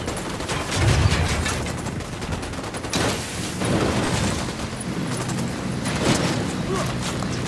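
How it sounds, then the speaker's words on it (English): Gunfire in Ghost Recon Wildlands rings out as repeated bursts of automatic shots and booms, loud and continuous across the firefight, with voices talking in between. "I'm opening fire on these shitheads."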